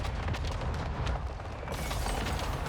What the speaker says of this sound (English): Once this mortar strike is done